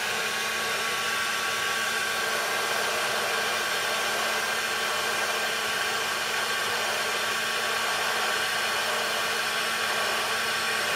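A heat gun at roughly 3.5 on the heat setting blows steadily onto heat shrink tubing, a loud unbroken hairdryer-like roar that holds at constant strength with no talk over it.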